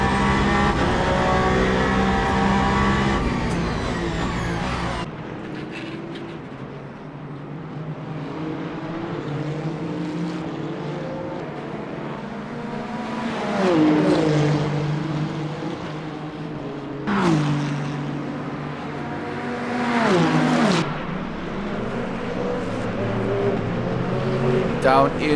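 Ferrari race car engine in an endurance racing simulator game at Bahrain, rising and falling through gear changes with sharp revving sweeps, loud and continuous under a commentator's voice.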